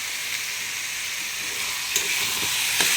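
Masala sautéing in a pan for chicken curry gives a steady, close hiss of sizzling oil, with a couple of soft spoon scrapes near the end and no talking.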